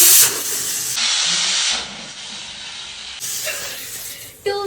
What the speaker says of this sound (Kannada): 2 ವಿಸಿಲ್ ಆಯ್ತು ಕುಕ್ಕರ್.